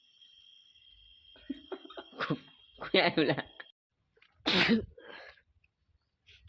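A person with a cold gives a sharp, loud sneeze and some coughing, close to the listener, with brief talk nearby.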